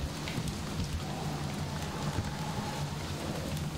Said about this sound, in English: It's still raining outside.